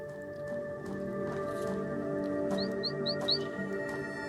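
Bird chirping in a text adventure video game: four short, quick high chirps in a row over a steady hum of background ambience, fairly soft.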